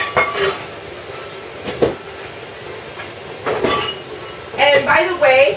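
A cooking pot is handled in a home kitchen, giving several sharp metallic clanks and knocks scattered across the clip, with a cluster of ringing clatters near the end.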